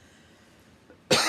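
A single loud, harsh cough bursts out at the end after near silence, from someone reading aloud during a talk.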